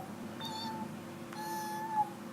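Two high, thin kitten-like meows, the second longer and rising, made by a human voice imitating a small kitten, fairly close over a steady low background hum with no talking.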